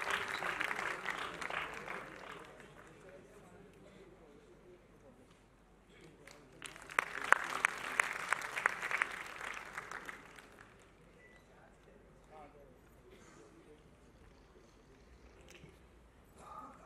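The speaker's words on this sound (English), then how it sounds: "A huge round of applause once again for the Rustamji Group." An audience at a college festival attended by a film star bursts into applause, heard faintly at first, swelling into a louder round of clapping midway, then fading under a murmur of voices.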